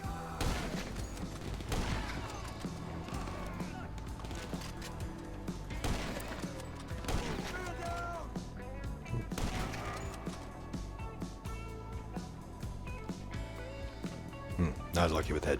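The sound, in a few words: gunfire in the video game GTA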